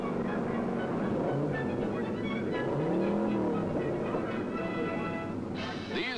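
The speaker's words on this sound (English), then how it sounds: "That's one of Pete's boys over there now, getting set for an unofficial run on the measured mile" A 1956 stock car on a flying-mile speed run along the beach at Daytona roars past, its engine note rising and falling as it passes by, with a voice heard alongside.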